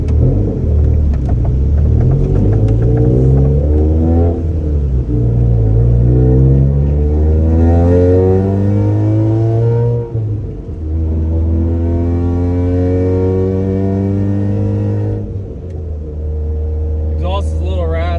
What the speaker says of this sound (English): Exhaust is a little raspy. It needs a better resonator.